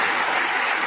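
Live-stream audience clapping fills the moment, a loud, dense, uninterrupted burst of applause with no voices over it.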